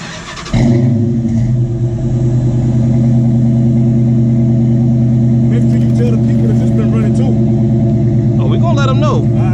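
A 2016 Ram Sport truck engine cranks and catches, then settles into a loud, steady, deep idle through its exhaust, with voices talking faintly over it near the end.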